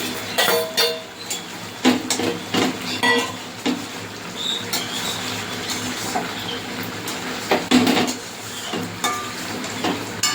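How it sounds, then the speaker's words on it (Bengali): Fried prawns added to a pan with colocasia stolons and coconut and stirred, irregular metallic clinks and scrapes of a spatula over a faint sizzle, with no talk. "এবারে যে ভেজে নেওয়া চিংড়ি মাছটা দিয়ে দেবো।"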